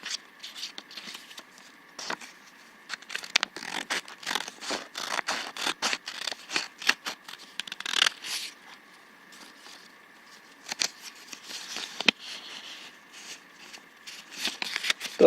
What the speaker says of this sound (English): let's just try cutting this paper that I've folded in fourths.